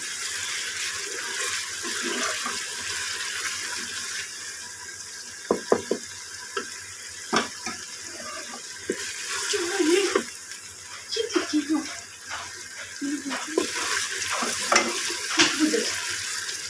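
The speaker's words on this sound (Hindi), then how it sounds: "थोड़ा सा पानी का छींटा लगाते हैं और फिर इसको भूनते हैं।" Maash dal is splashed with a little water and then roasted and stirred in a pan, giving steady sizzling with scraping, clinking stirring strokes near the microphone and no talking.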